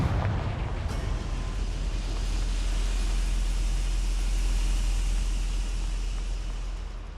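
A Confringo blasting spell explodes in the Hogwarts Legacy video game, a sharp burst that swells into a loud, sustained, rumbling roar with heavy low-end weight and no talk.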